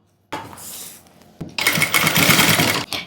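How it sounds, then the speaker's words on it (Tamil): A sewing machine stitches piping onto a blouse neckline: a short whirring run, a brief pause, then a longer, steady burst of rapid needle chatter close by, with no talking. "இதே மாதிரியே ஃபுல்லாக தைச்சிருங்க"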